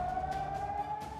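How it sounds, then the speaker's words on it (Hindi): An air raid siren in Israel holds a steady, sustained wail, heard alone and fairly distant under a low rumble of background noise. "सायरन की आवाज अब इजरायलियों के कानों में मौत की घंटी की तरह बजती है।"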